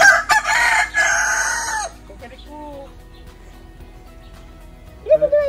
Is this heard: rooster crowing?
yes